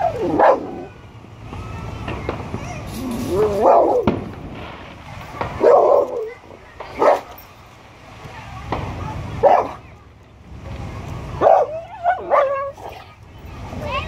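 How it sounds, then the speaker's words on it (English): A dog gives short yips and whimpering barks in bursts during fireworks, close by, spaced irregularly with quieter gaps between them. "Good, no bark, Belle"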